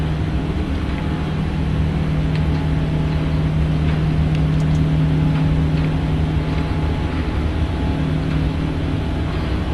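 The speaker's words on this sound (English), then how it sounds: "Listen to those engines." Boeing 777 freighter jet engines on takeoff climb in a flight simulator, a loud steady roar with a constant low hum and broadband rush throughout, no talk.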